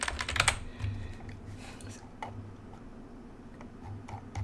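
Fingers tap on a computer keyboard in quick, uneven bursts of light clicks, close and fairly quiet, with a brief cluster at the start and scattered keystrokes after.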